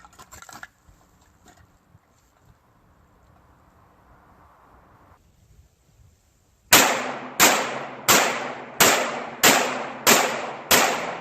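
Eight sharp Glock 17 pistol shots firing full metal jacket target rounds, evenly spaced and loud with short decaying tails, follow several seconds of quiet outdoor background with faint knocks.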